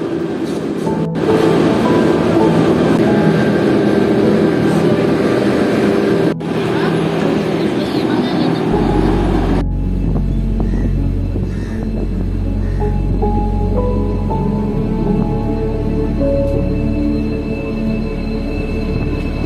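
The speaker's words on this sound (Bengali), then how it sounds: "তো আমাদের ট্রেন এখন ছেড়ে দিয়েছে হায়দ্রাবাদের উদ্দেশ্যে" Wainganga Superfast Express pulling out of platform 5 on the Bengaluru to Hyderabad run, a steady loud broadband rumble with a deep low-frequency roll building midway as the train gathers speed, continuous throughout.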